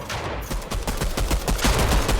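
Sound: gunfire in the video game Fortnite

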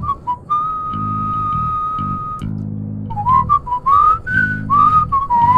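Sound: Sponge monster whistling in video game My Singing Monsters

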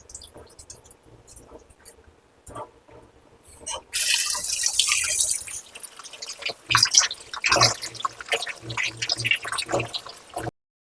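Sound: washing chicken under running water

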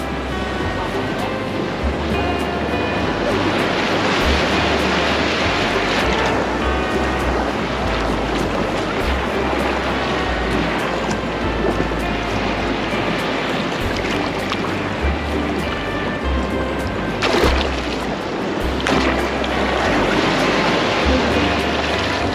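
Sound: ocean waves washing over sand at Waikiki Beach, Oahu

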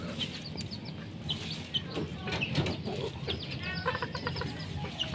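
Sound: chicken clucking

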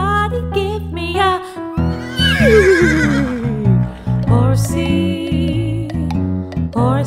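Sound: horse neighing

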